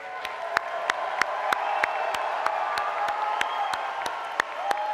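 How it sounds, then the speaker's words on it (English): Friends and family of graduating students applaud and cheer at a college convocation, a steady roar of clapping and crowd noise with scattered sharp claps and occasional whoops throughout. "I'm going to ask friends and family to stand and to applaud and celebrate and scream for the students here today"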